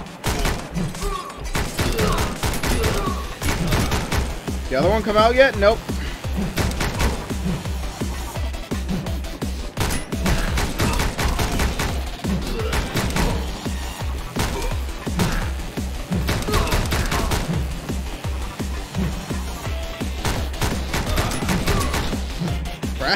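Rapid gunfire in the video game Speed Limit, set aboard a bullet train: dense, repeated sharp shots in quick bursts, loud and continuous, with brief speech in between.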